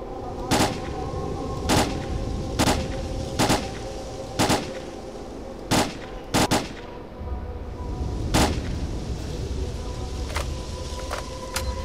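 Bursts of gunfire ring out in the video game STALKER Call of Pripyat: sharp, loud shots at irregular intervals, some in quick pairs, over a low, continuous background rumble.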